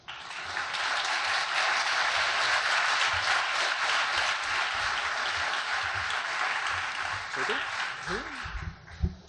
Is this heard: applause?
yes